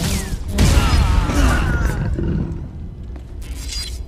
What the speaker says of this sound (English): I did hear something. That roar.